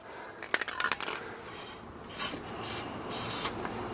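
A few metallic taps and clinks, then several short bursts of penetrating oil spray hissing close up, one after another, on a Chrysler 300 front control arm.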